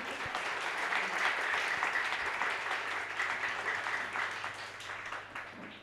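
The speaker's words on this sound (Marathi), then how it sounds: "एकदा जोरदार टाळ्या होऊ देत." An audience applauds at the Deepstambh award ceremony held in memory of the late Madhavrao Bhanage, giving steady, dense clapping at full volume for the whole stretch that fades only slightly at the end.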